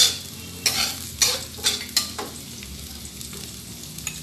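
Ginger and onions fry over medium heat in a pot for chicken arroz caldo, a close sizzle punctuated by four or five quick scraping stirs, then a quieter hiss.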